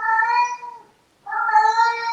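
A cat meows twice, clear and fairly close, each meow a drawn-out tonal cry separated by a short pause, with no talking.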